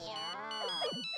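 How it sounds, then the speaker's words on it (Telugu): A mobile phone rings with a melodic, tonal ringtone that plays continuously for just over a second. "అరే, అతనే ఫోన్ చేస్తున్నాడు."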